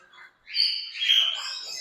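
Rosella parrots call in a pet shop, a couple of bright chirping squawks rising after a short pause, faint and close.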